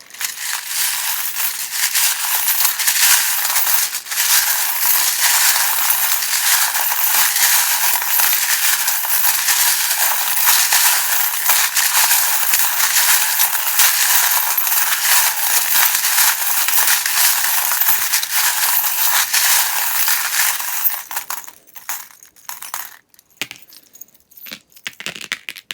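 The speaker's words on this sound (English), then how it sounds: "I would recommend turning it down just while I shuffle the charms, because they can be loud" Small metal tarot charms rattle and clink inside a metal tin, a loud continuous jangling shuffle that runs steadily for about twenty seconds, then breaks into a few scattered clinks and taps before stopping.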